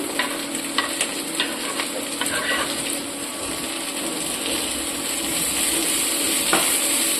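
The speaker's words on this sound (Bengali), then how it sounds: "হালকা করে এটা ভেজে নেব।" Capsicum, green chilli and chopped tomato fry in a pan for a Bengali mutton korma, a loud continuous sizzle with intermittent stirring scrapes and clicks, no talking.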